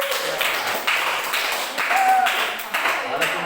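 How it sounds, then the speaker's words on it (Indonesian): Classroom group applause at the end of a school project lesson, a short burst of scattered hand claps with rhythmic beats, fairly close, mixed with a voice. "Tepuk tangan dulu untuk kita semua."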